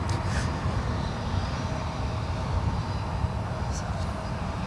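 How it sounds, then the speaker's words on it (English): A Virgin airliner taxis out toward runway 28 at San Francisco International for departure to London Heathrow, a steady, continuous jet rumble at moderate distance under outdoor wind noise with no clear rises or breaks. "There we have Virgin 20 Victor taxiing out to runway 28 for departure back to London Heathrow"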